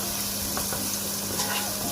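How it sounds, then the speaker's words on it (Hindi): Garlic paste frying in a pan for resha kabab, a steady close sizzle with faint stirring, continuous and moderately loud throughout. "इसके अंदर लहसुन का पेस्ट हमने लिया था वो डालेंगे।"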